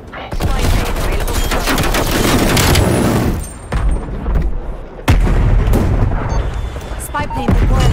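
A Death Machine weapon in Call of Duty Cold War fires in loud, sustained rapid bursts, cut by short pauses, with booming impacts and a voice over the gunfire.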